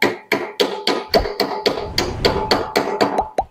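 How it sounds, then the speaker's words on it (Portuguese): Light hammer taps seat a 3.5 mm firing pin into an air rifle during assembly of a 4.5 mm PCP kit: about a dozen sharp, evenly spaced knocks, close and loud, with no talking. "Pode dar uma pancadinha aqui para ele entrar mais ou menos"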